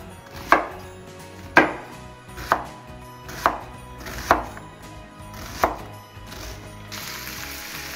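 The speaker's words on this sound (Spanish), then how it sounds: "Vamos a picar una cebolla" An onion being chopped with a knife on a board, six distinct sharp thuds spaced roughly a second apart, close and clear with no talking, followed by a short soft rustle.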